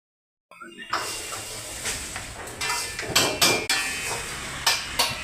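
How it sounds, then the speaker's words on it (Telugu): Vegetables being chopped with a knife in a busy kitchen where dishes are cooked to order, giving a series of sharp, irregular knocks against a steady background of kitchen hiss and clatter. "ఈ అన్న కటింగ్ మాస్టర్, అమ్మతోడు అన్ని కూరగాయలను కోసేస్తాడు"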